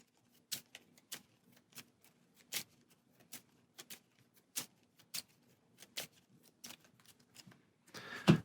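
Cards for the Marvel Champions card game are riffle-shuffled and tapped into a deck, giving a steady run of soft, crisp clicks, quiet and close, ending in a brief rustle.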